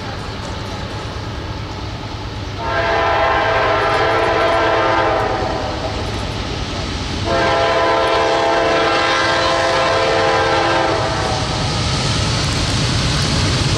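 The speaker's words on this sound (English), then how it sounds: "coal train." A coal freight train rumbles steadily past while its horn blares two long chord blasts, a short pause between them, loud and close.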